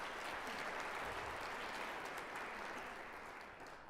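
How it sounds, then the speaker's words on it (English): Dense, continuous applause from a comedy show audience, a wide wash of many hands clapping at once, steady and fairly distant, tapering off slightly at the end. "give a round of applause for teachers"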